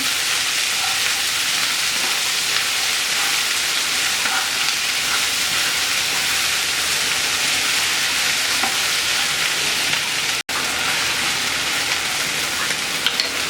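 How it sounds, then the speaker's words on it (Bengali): Okra hits hot oil and fries with a loud, steady close-up sizzle that goes on for over ten seconds, broken only by one brief dropout near the end. "তেলটা গরম হয়ে গেছে এবার আমি ভেন্ডি দিয়ে দিচ্ছি"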